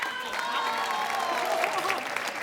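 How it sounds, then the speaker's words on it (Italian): Audience applause at an outdoor orchestra concert in a town square, a dense, even wash of clapping from a large crowd with faint voices beneath, lasting a couple of seconds. "Un bel applauso, signore, al mio socio, alle luci, ai suoni, alla coreografia, alla voce."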